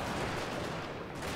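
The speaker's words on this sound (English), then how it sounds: "There's a lot of gunfire being pushed down here from" Massed gunfire in the video game Total War: Fall of the Samurai, a dense continuous crackle of rifle volleys that roars steadily throughout.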